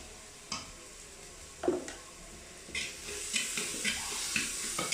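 Chicken masala and spices are stirred in a hot frying pan, a light sizzle underneath repeated scraping strokes of a spoon against the pan, close and quiet with no talking.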